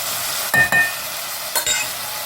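Turmeric, chili powder and other spices stirred into chicken gravy frying in a pan, giving a steady soft sizzle with a few quick scraping stirs, and no talk.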